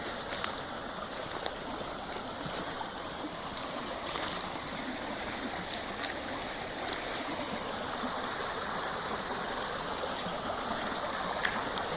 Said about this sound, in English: Here's the creek.